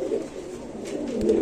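A Chinese owl pigeon coos up close at a pigeon sale, a low, soft, rolling murmur that carries steadily through the moment with faint background noise.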